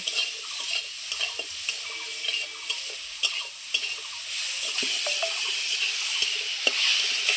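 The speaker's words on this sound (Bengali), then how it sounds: "এবার আমটাকে আবারও খুব সুন্দর লবণ হলুদ দিয়ে ভেজে নেব।" Mango pieces fry with salt and turmeric in a pan, a spatula scraping and stirring over a continuous bright sizzle, with occasional louder clacks against the pan.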